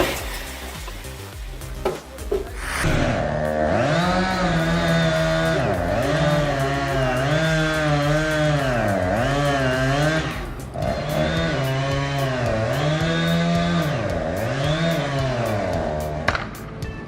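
A chainsaw cuts into a tree near houses and vehicles, a loud, close, buzzing whine that starts after a few seconds and then bogs and surges in repeated dips as the blade bites through the wood.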